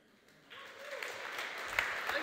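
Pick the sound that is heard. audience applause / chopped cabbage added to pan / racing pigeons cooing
audience applause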